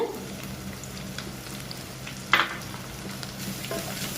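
Shallots and crushed whole garlic sautéing in a pan for fish curry, a steady low sizzle with one sharp scrape or clink partway through, no speech.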